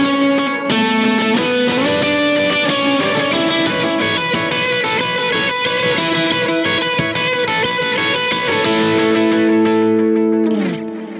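Electric guitar run through delay, distortion and chorus effects plays a song intro high on the neck, a dense, continuous wash of overdriven notes that ends on a sliding, fading tone, loud and alone.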